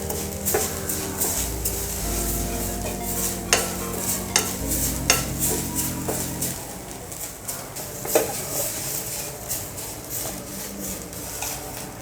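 Grated coconut is stirred and roasted with oil in a hot pan, giving scraping spoon strokes and a soft sizzle up close, with a few sharp clinks against the pan and no voices.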